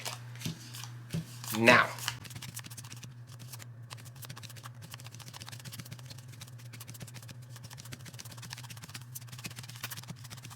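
A deck of ghost cards for a haunted mansion board game gets shuffled in a brief, close riffle of crisp card flutter, then a quieter steady shuffling under a speaking voice.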